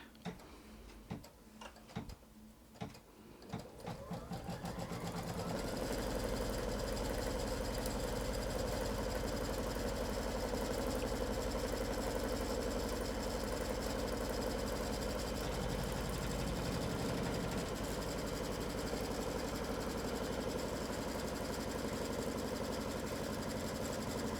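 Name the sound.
embroidery sewing machine stitching a block in the hoop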